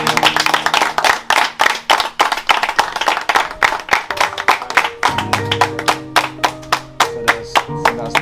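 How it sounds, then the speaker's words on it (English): A small group clapping in rhythm outdoors in Trench Town, Jamaica, sharp, close, evenly paced claps throughout, with a sustained tone or hum running underneath. "we want to give Danny and the California crew a round of applause"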